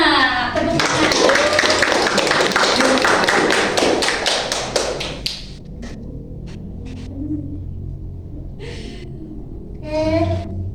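An audience at a Ramadan talk-show stage event bursts into dense, close applause for about five seconds, then it thins to a few scattered claps and short bursts over a low room hum.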